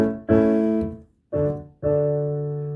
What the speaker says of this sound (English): 1 to 4 sounds like this.